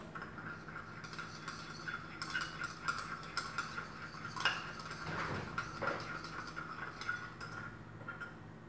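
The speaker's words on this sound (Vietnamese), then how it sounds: "Rồi cô bắt đầu quậy đường." Sugar is stirred into fish sauce, with a utensil clinking and scraping against the dish in quick, irregular taps. The sound is close but quiet, and no one talks.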